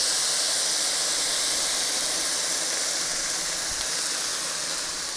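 Hot pasta tipped straight into a skillet for bacon cheeseburger pasta gives a steady, loud steamy hiss that holds evenly throughout, with no talking.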